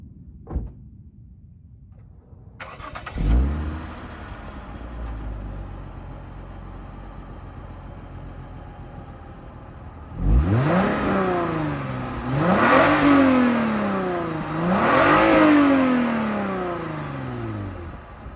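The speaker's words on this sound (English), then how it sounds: "that is the stock exhaust" A Lexus IS250 on its stock exhaust, parked on jack stands, starts with a thump and a short idle, then gives three rising-and-falling revs, close and loud, with no voices.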